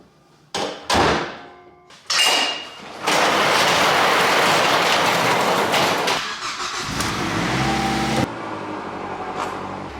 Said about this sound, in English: we're gonna take this thing for a quick little drive and see if it's still rubbing